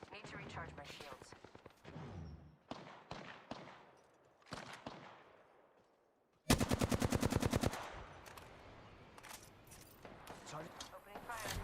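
Gunfire in the battle game Apex Legends: scattered single shots early, then a loud rapid automatic burst for about a second, followed by more sporadic shots and impacts, with voice lines spoken intermittently.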